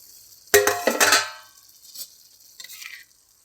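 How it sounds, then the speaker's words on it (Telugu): Vegetable vermicelli upma being stirred in a pan: a few close scraping, clattering strokes of a spoon against the pan, followed by faint sizzling and a brief soft scrape near the end. "ఒకసారి కలుపుకుందామండి."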